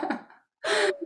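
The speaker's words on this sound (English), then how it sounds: "Beginning of a yawn." A person begins to yawn: a soft breathy intake, a brief pause, then a louder drawn-out breath, heard close and quiet during a tapping-therapy session.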